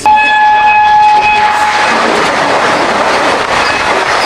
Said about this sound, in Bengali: সেই নস্টালজিক ট্রেনে ভাই এই হচ্ছে আমাদের পাহাড়িয়া এক্সপ্রেস